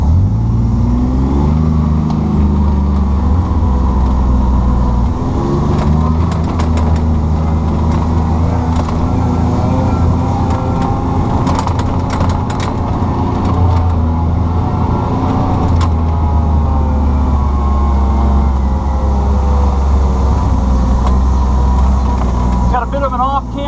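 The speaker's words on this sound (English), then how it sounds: "No problem for the Pro-FXT, we just cruise right through that." A Kawasaki Mule Pro-FXT side-by-side drives through a mud hole at Hard Rock Ocala, its engine droning loud and steady with shifting load and muddy splashing, while someone talks over it.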